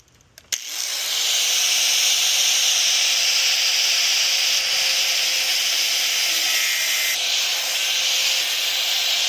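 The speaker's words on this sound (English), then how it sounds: "I got to take some of this off. So just take a cutoff disc" Cutoff disc grinding through a steel tab on an old school dog dish wheel, a loud steady abrasive hiss and whine that starts abruptly and runs continuously, close up with no talking.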